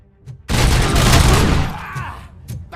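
Gunfire in RoboCop: Rogue City, a sudden loud burst of rapid shots that roars for about a second then tails off, with faint voices around it.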